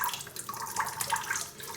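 Soft, close trickling and dripping of water from a wet washcloth soaked in hot water, small droplets pattering quickly and unevenly for a moment.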